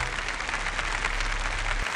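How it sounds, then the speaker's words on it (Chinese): An audience claps steadily and fairly loudly at a televised archaeology lecture as the next speaker is welcomed onto the stage, with the applause running unbroken for about two seconds. "我们也继续的请出沈丽华老师，掌声欢迎"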